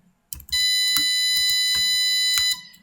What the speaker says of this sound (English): So for how long should the buzzer keep ringing?